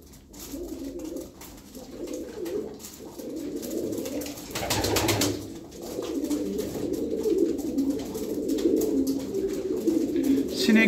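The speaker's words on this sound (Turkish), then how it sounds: "Kuşlar, genç kuşlar." Young pigeons coo in a loose, repeated murmur while pecking at feed, the soft throaty calls close and continuous across the whole stretch, with a brief louder flurry midway.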